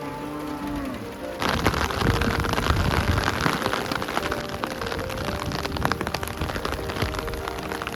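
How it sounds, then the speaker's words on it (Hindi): Heavy rain mixed with some hail pounds down in Aru Valley, starting as a sudden loud downpour after a quieter moment and then keeping up a dense, steady roar of drops. "एकदम ज़बरदस्त वाली बारिश पड़ रही है"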